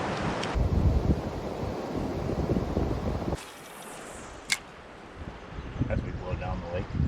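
Gusty wind buffets the microphone on a windy wilderness lake during a canoe trip, with water sloshing, a short lull partway through, and faint voices underneath.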